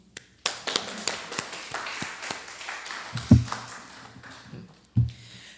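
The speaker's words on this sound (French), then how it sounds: "On applaudit" Audience in a church-teaching gathering clapping, with sparse, uneven hand claps that start scattered and rise into short bursts of applause, fairly close and moderately loud in a quiet room.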